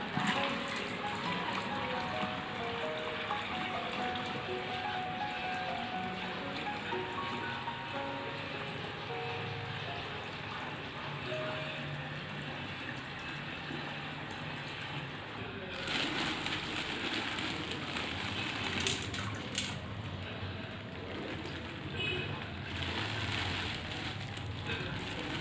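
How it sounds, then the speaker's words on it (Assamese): Water splashes and trickles as it is poured into a fish bowl aquarium, a steady close pouring stream that shifts briefly near the middle, heard at moderate level without talk. "এইটো পানী ইয়াতে এড কৰিম"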